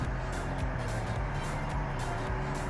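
A 2014 VW MK6 Jetta S rolls slowly toward a shop bay door, giving a low, steady engine hum with a faint rhythmic throb, close and even throughout.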